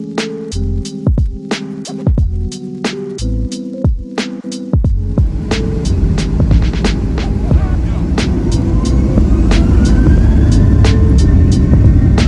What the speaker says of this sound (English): The jet bridge was detached and we started our taxi out to the runway in Minneapolis.